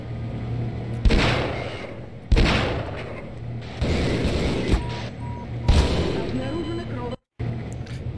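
Four loud gunshot blasts in the video game Half-Life go off at intervals of about a second and a half, each trailing a rumbling echo, with a steady tone beneath.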